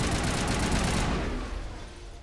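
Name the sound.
gunfire in the video game Mass Effect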